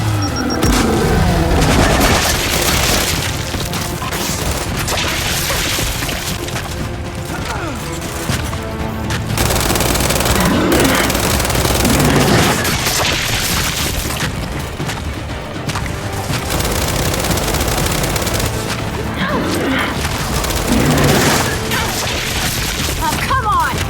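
Explosions and bursts of gunfire from a Gears of War 5 battle, with loud, dense blasts and rattling shots under shouted voices for the whole stretch.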